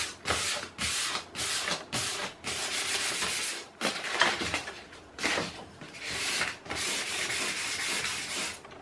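A wooden piece being sanded by hand on a support jig: repeated rasping back-and-forth strokes, loud and close, in an even rhythm of about a dozen passes with short pauses between them, no one talking.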